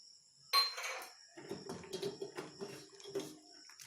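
Chopped cashews are tipped into a pot of sabudana kheer and stirred with a spoon, a clatter at the start followed by a series of soft scraping and clinking strokes against the pot.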